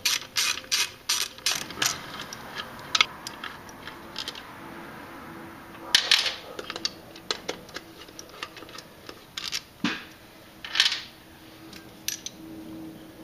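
Ratchet wrench clicking in quick bursts while loosening bolts on the throttle body of a Jeep 4.0 engine, close and crisp, with short pauses between runs of ticks and no talking.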